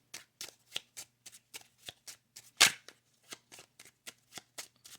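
Tarot cards being shuffled, a quick run of crisp, evenly spaced riffling snaps with one louder slap midway, close and quiet with no talking.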